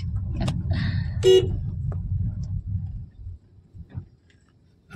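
A car driving along during a Ganpati immersion festival outing, with a steady low road rumble throughout and a single short horn honk near the start.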